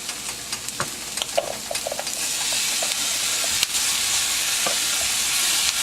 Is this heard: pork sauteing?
yes